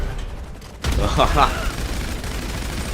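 Gunfire from the GTA V video game as aliens are shot: a sudden burst of rapid clattering shots that cuts in after a short lull, then continues as a steady mechanical rattle, with a voice talking over it.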